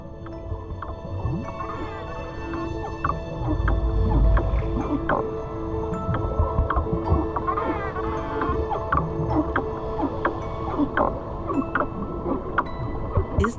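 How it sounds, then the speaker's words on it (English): Dolphins gathering underwater give strange, powerful calls: a dense stream of clicks, chirps and rising whistles, loud and close, continuing throughout with a low watery rumble beneath. "All these sounds given out by the dolphins and other cetaceans remain a huge mystery."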